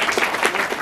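A short burst of steady, dense applause from a crowd at a charity event giving sweaters and socks to needy children, many hands clapping together without pause.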